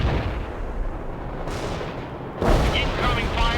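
Battlefield gunfire and incoming artillery in the strategy game World in Conflict, a continuous heavy rumble of shots and blasts, loud and close, with a sharper burst of fire midway and radio-style voices over it.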